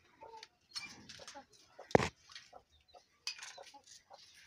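A chicken in a small urban farm coop in Kampala, Uganda, giving soft scattered clucks and brief calls, close and fairly quiet, with one sharp louder squawk in the middle.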